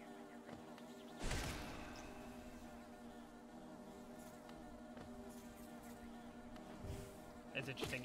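Bees buzzing in the Hollow Knight video game, a steady insect drone running throughout under game music, with brief louder bursts near the start and end.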